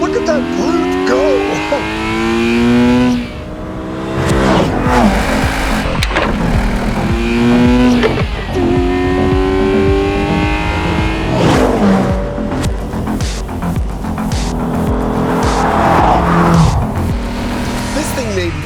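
A 2025 Corvette ZR1 sports car accelerates hard in a drag race, its loud engine roar climbing through repeated gear shifts for nearly twenty seconds, with voices talking over it.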